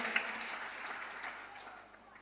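Faint applause from a church congregation during a service rises and slowly fades away, with voices mixed in.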